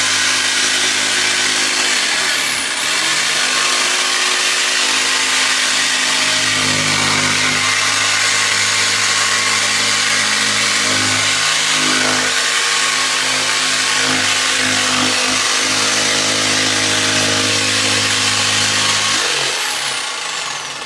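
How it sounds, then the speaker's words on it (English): A jigsaw cuts continuously with a loud, buzzing motor and rasping blade, close up, with brief dips as the cut starts and near the end. "my jigsaw was on my cord"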